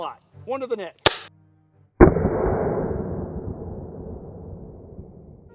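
Brief speech and a sharp click precede a single loud shot from a non-lethal pistol, fired at point-blank range, that rings out and decays slowly over several seconds.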